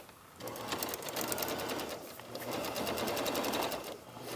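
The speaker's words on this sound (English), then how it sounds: "I'm now going to sew all the way around" A sewing machine stitching around a lined patch pocket at a 5/8-inch seam, its rapid mechanical needle clatter running steadily close by, with a brief slowdown midway before resuming.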